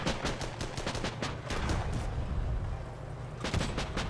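Bombs and gunfire strike a Whippet tank in the Armored Battle Crew video game, with rapid bursts of sharp cracks and booming impacts over a dense rumble, a brief lull, then another burst.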